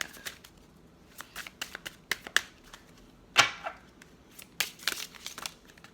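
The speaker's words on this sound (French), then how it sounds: "Je vais sortir les cartes ensuite" Oracle cards are drawn out and handled close by, producing irregular dry flicks, snaps and papery rustles with scattered sharp slaps and a louder riffle near the middle, with no voices.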